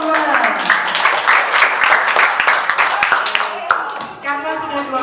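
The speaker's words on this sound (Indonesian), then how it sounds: "Tepuk tangan untuk teman-teman." Children in a classroom clapping for their classmates, sharp uneven handclaps mixed with chatter and voices, close and lively throughout.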